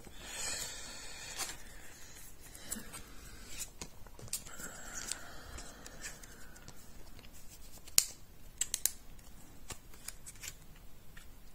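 Pokémon trading cards from a VMAX Climax set slide into plastic sleeves that are far too large, giving soft, close rustling and scraping with a few sharp crisp snaps of plastic near the end and no talking.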